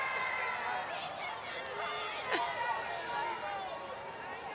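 Crowd at a women's hockey match between Australia and Japan at the 2018 World Cup, a distant broad murmur of voices rising in protest over a missed penalty corner, with commentators talking over it.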